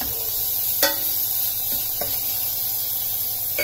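Chopped onions sauteing in melted butter in a pan, a steady soft hiss and sizzle with a few brief scraping stirs, close and quiet with no talking.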